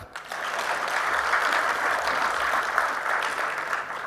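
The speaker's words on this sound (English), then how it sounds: "Can we give our alumnus a bigger clap?" Audience at a university launch event for a national ICT job fair clapping for a visiting vice president, a sustained, even wash of many hands applauding in a large hall.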